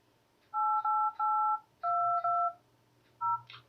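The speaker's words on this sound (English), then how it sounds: "I'm going to dial this number right here" A phone number is keyed in on a telephone keypad before a call to a scammer: a series of clear dual-tone DTMF beeps in uneven bursts, some held longer, close and loud with no talking.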